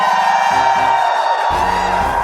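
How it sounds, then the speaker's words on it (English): Tournament crowd at a Pokémon championship roaring and whooping for the hometown finalist, a loud sustained cheer with shouts rising over it throughout. "this crowd going absolutely crazy for you"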